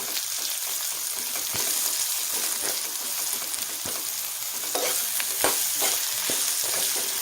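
Chopped onion and curry leaves sizzle in spiced masala for a Kolhapuri misal, a continuous close hiss broken by irregular stirring clicks and scrapes, with no voices.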